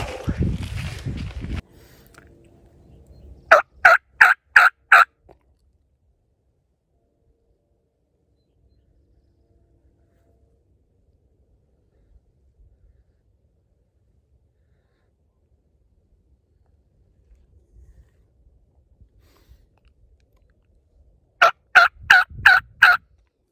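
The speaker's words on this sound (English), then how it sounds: "I just heard a gobble, probably a couple hundred yards up the same ridge I'm on." Two separate bursts of rapid wild turkey gobbling ring out during a spring hunt on a ridge, each a clear rattling run of several notes. Long stretches of near silence fall between them.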